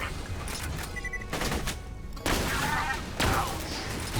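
Sniper rifle fire in the Borderlands 2 video game: a few heavy shots with booming reports and trailing echoes against a constant game background of hum and effects.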